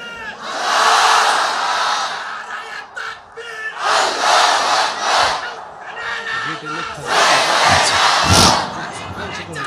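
A large congregation at a religious sermon roars the takbir chant, Allahu Akbar, in three loud surging waves with short pauses between them.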